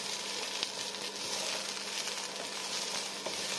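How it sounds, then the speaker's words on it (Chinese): Green beans and small dried fish are stir-fried in a wok with a steady close sizzle, broken by a few light clicks of a spatula. "1分钟后，将四季豆放进来，再将所有的材料翻炒均匀。"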